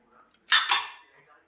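Freshly washed steel pots and dishes clatter together in one short, sharp burst of clanks that rings out and fades within a second against an otherwise quiet kitchen.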